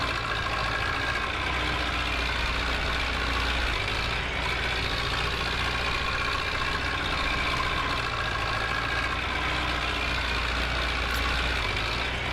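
A tractor engine in the Farming Simulator 15 game runs as a loud, steady, low rumbling drone that holds unchanged throughout, with no talking.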